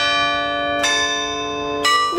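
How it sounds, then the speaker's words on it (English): Cathedral tower chime bells at the Scottish Rite Cathedral ring out in two clear strikes, each leaving a bright, sustained metallic hum that overlaps the next, heard alone without talk. "This is what will ring the bells quarter after, half hour, quarter till."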